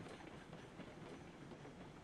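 A coal-powered steam locomotive running on rails in the Railroads Online game, a steady faint rumble with soft rhythmic wheel clatter throughout.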